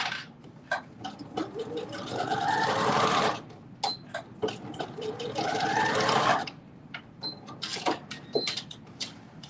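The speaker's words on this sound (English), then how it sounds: "Center seam is sewn." A sewing machine stitches the center seam of a pair of pants, running in two sustained bursts of rapid mechanical whirring separated by short pauses filled with clicks and handling noises, close and clear.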